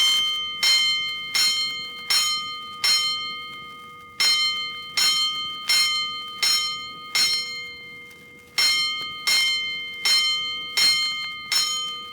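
Fire station alarm bell in a radio drama, ringing in clear groups of five evenly spaced strokes with a short pause between groups, each stroke loud and ringing out.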